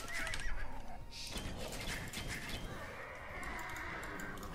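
Heavy cavalry archer's horse neighs in a strategy video game, a single whinny near and clear over faint background game sounds with no talk.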